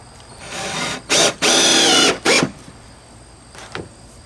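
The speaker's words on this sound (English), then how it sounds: "all the way down one side, all the way down the other, sinking all the screws in" A power drill drives screws into replacement decking boards, giving several short, close whirring bursts of a few seconds or less, followed by faint handling noises.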